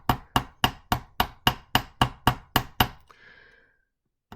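A hammer gives about ten sharp, evenly spaced taps on a jewelry rivet's small screw and nut while a beaded brooch is worked, each strike ringing briefly before a faint scrape and silence close it out.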